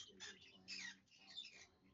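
A pet bird gives short, faint chirping calls in bursts, heard indoors at low volume with some household noise.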